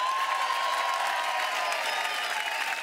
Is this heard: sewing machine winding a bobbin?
no